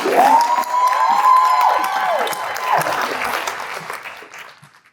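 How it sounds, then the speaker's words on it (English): A crowd at a storytelling event applauds with high cheers and whoops over the clapping, the noise holding strong before fading away toward the end. "Can y'all give us a applause?"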